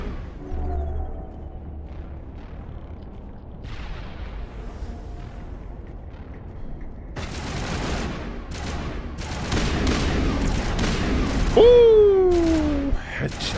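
Gunfire in Mass Effect 1, with rapid shots and blasts crackling over game ambience in the second half, followed by a descending whine, and a voice talking over it.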